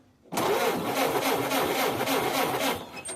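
A Ford Model A engine being cranked starts abruptly and runs as a loud, close, continuous mechanical churn with a rhythmic pulsing for about three seconds; no speech.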